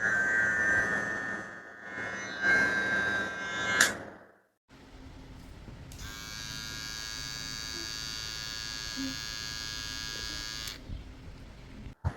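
A KIKIDO KK 314 electric hair trimmer rated at 7,000 RPM switches on after a few handling clicks and runs with a steady, close, high-pitched buzz for several seconds, then cuts off.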